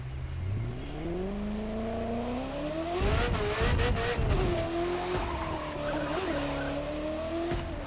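A Ferrari F40 in The Crew 2 drives with a steady engine drone that rises in pitch, then tires squeal and skid loudly midway before the engine settles and pulls on, no speech.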